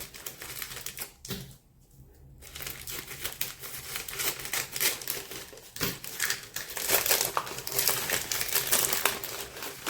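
Paper being cut with scissors while unpacking happy mail for a watercolor junk journal, steady close snipping and crinkling through most of the stretch, with a short quiet gap early on and no talking.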